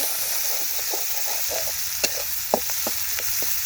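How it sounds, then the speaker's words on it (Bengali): Onion and green chili fry in oil under a steady hissing sizzle, with a run of quick scraping stirs and a few sharper clinks toward the end, and no talking. "পেঁয়াজ কাঁচামরিচ ভেজে সামান্য একটু পানি দিয়ে দিচ্ছি"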